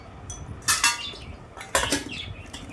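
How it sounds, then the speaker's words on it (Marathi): A spoon stirs bhel, a dry puffed-rice snack, in a bowl, giving two close bursts of clinking and scraping against the bowl, separated by a short pause, over a quiet background. "आणि मस्तपैकी आपण अशी मिक्स करून घेऊया भेल"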